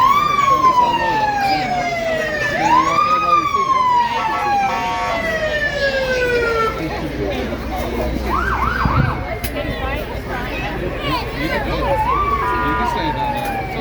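A police car siren leads a small-town Halloween and fall parade, loud and close as it sweeps through long wailing rises and falls, with vehicle rumble and crowd noise underneath.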